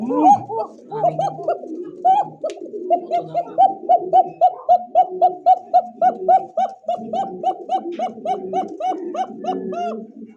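A male and female pair of Shalik Koka pigeons coo together in rhythmic, repeated throaty phrases, close and loud, with some bursts overlapping.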